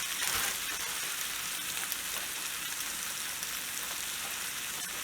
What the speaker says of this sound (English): we're going to add an Italian sausage right there.